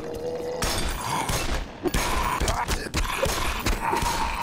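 Weapons fire in the Black Mesa video game sounds as rapid bursts of sharp, loud shots with thuds and rattling impacts, close and dense throughout.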